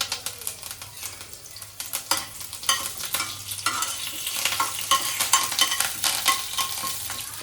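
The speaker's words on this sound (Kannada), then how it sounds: "ಆ್ಯಂಡ್ ದೆನ್ ಇವಾಗ ಕರಿಬೇವು ಹಾಕ್ತಾ ಇದ್ದಾಳೆ." Curry leaves fry in hot oil and are stirred in a pan, giving a continuous crackling sizzle with scraping stir strokes that grows louder and busier throughout.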